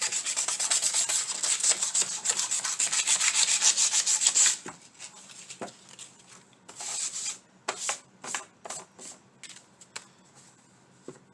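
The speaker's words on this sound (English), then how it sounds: "If there's any, if it ripped any, sand it real good right there." Sanding a wooden Christmas sign by hand: steady close rubbing strokes at first, then a series of shorter separate scrubbing passes.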